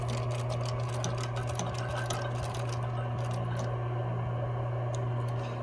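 A sewing machine stitches a medical mask cover in a steady, continuous mechanical hum with a fast needle patter, close and alone for several seconds.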